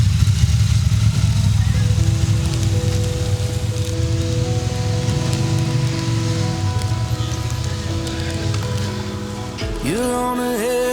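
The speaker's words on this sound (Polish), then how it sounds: "Deszcz nieustępliwie dawał nam się we znaki aż do końca tego odcinka podróży" Heavy rain hisses steadily over a motorcycle engine on a wet road trip through Andalusia, a broadband wash of falling water with tonal engine hum beneath, loud and continuous throughout.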